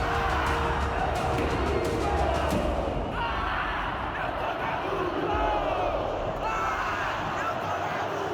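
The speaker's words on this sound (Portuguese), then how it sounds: "Ver o Mineirão cheio, aquela torcida gritando," Loud, dense roar of a packed football crowd shouting and chanting at the Mineirão stadium in Belo Horizonte, sustained throughout with surging waves of voices and occasional thumps.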